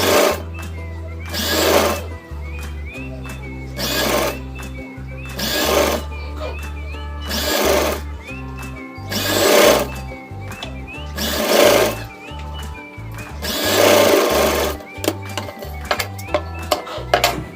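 A sewing machine stitches piping onto a round neckline in bursts, loud whirring runs of roughly a second each repeating about ten times with short pauses and handling noises between, while someone speaks over it.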